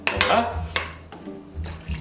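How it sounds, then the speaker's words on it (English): Water pours out of a container in a magic trick, in short splashing bursts over a faint background hum, with a louder gush near the start and softer pours following. "even more water comes out"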